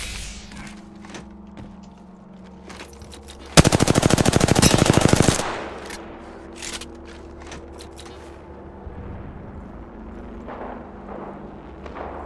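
Automatic gunfire in the video game Apex Legends: one loud, rapid burst of about two seconds stands out over quieter in-game ambience and scattered softer shots.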